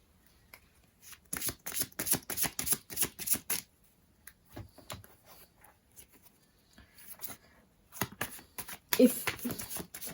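A deck of tarot cards is shuffled in repeated quick riffling bursts, crisp papery flutters close by, with pauses between rounds and soft handling noises.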